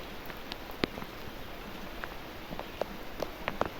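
Steady rain falling outdoors during a power outage, a soft continuous hiss with scattered sharper drops tapping nearby surfaces, and no voices.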